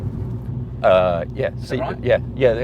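A low, constant rumble of road noise and vibration hums through a hot hatchback interior, a Mini JCW or Abarth 595, while two people talk over it.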